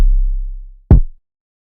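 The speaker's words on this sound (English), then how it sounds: "and here you go, you've got an 808 now." A single 808 bass hit built in the Vital synth sits alone and fairly loud: a deep sub-bass tone that slowly decays over almost a second, then one short, punchy low thump fades out quickly.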